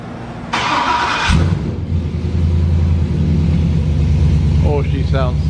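An LS-swapped Chevy van engine cranks and fires up after a short starter whine, then settles into a loud, steady low idle rumble with a couple of light revs near the end.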